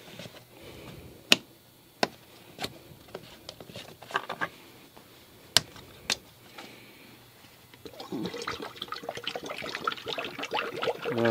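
50-50 BMW antifreeze coolant is poured into the reservoir of a 2007 BMW X3, with scattered sharp clicks and taps of the bottle and cap before a steady, faint trickle of liquid builds near the end.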